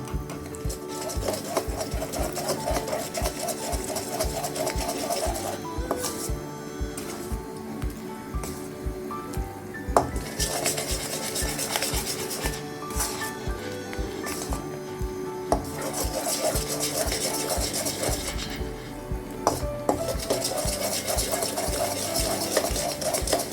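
A spoon steadily stirs a malido mixture in ghee over a low flame, making soft continuous scraping and clinking against the pan with no talking.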